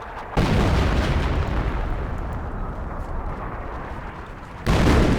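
Sustained booming artillery fire and explosions in a Company of Heroes match, a loud continuous wall of blasts and rumbling from start to end, with a fresh, heavier burst near the close.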